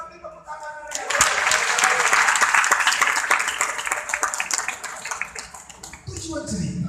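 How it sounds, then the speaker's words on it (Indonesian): Audience clapping at a storytelling talk, several seconds of dense applause that swells and fades, with speech before and after. "Sudah ngerti, tepuk tangan dulu ya."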